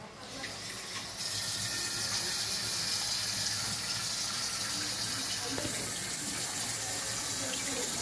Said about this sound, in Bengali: অল্প একটুখানি জল দিলাম।